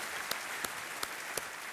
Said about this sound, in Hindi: दोबारा ताली बजनी चाहिए इनके लिए।